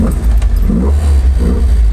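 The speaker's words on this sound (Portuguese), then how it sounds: "deixa o motor dar uma giradinha" The engine of a classic Alfa Romeo fitted with Weber carburetors idles loud and close, a deep rumble with two gentle swells as it is blipped.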